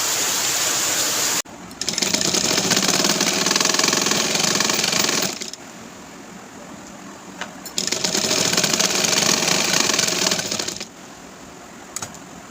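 A sewing machine stitches a garment sleeve in two long, loud bursts of rapid mechanical clatter, each several seconds long and separated by quieter pauses with light handling sounds.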